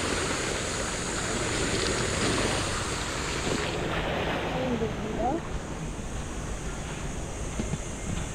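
Strong, salty hot spring water rushes at a spring in Coron, Palawan, a continuous close wash of gushing, splashing flow with a faint breezy hiss, and voices occasionally murmur beneath it.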